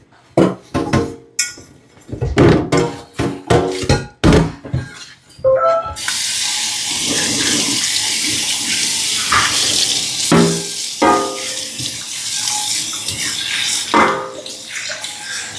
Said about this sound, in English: Rinse it off real good.